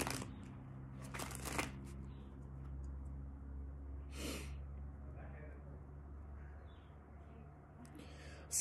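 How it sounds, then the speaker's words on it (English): Tarot cards shuffled by hand in a quiet room, a few soft riffling bursts near the start and again midway over a low steady hum, with no talking. "when I shuffle the cards like this"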